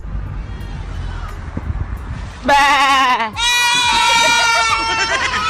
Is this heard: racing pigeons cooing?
no